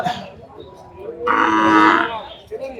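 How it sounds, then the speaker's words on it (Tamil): Bargur hill cattle at the Anthiyur market festival give one loud, drawn-out moo in the middle, with softer lowing and crowd murmur around it. "இது ஃபுல்லாமே எல்லாமே இந்த மலை மாடு தான்"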